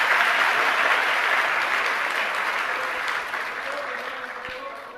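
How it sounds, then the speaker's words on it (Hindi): Audience applause at a Jain religious discourse, a dense steady wash of clapping that fades slightly toward the end, with a brief voice near the close. "ये हमारे आप लोगों के लिए तालियां हैं"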